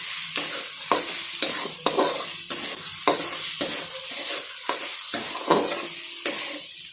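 Softened tomatoes sauté in a pan with a steady sizzle while a spoon stirs them, scraping in a regular rhythm about once every half second, close and continuous with no talking.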